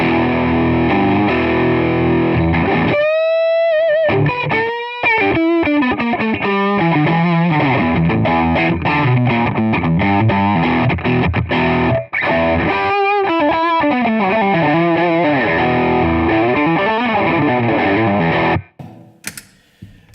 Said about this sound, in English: it's a really smooth overdrive